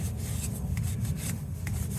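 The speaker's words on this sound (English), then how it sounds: "You want to clean the cap very thoroughly." A brake fluid reservoir cap above the brake master cylinder is wiped clean by hand, giving a steady, close rubbing and scraping sound with a few light scuffs, and no talking.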